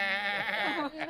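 A person's voice imitates a goat's bleat: a single wavering, nasal call lasting about a second, close and clear.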